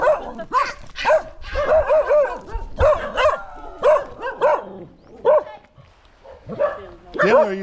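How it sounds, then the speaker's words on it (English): Dog barking in repeated bursts with yips and whimpers, close and loud, at a family day gathering with people talking around it. "there's a dog"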